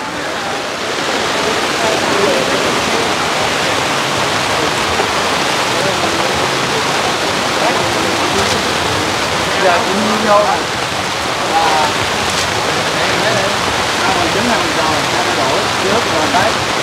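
Heavy rain pouring with strong wind outdoors during a storm, a dense, steady loud roar of water filling the whole stretch, with faint voices briefly in the background.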